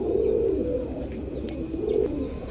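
Pigeons at a pigeon sale coo steadily in low, throaty bursts that rise and fall, close by and with no talking over them.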